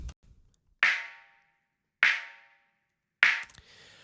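Three separate filtered snare drum hits, evenly spaced about a second apart, each with a bright, thin crack and short decay.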